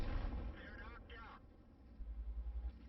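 Artillery fire and battle noise from the World of Tanks game, a heavy low boom at the start, then rumbling, and a run of deep pulsing thuds near the end, all under talk.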